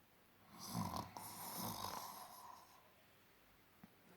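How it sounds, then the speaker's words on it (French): A strange, snoring-like rumble like a motor sounds in a bed under a soft duvet. It comes as two breathy swells in the first two and a half seconds, is faint and close, and then fades to quiet. "elle entend un bruit étrange, comme un ronflement de moteur"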